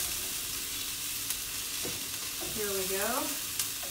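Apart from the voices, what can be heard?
food sizzling and burning in a non-stick pan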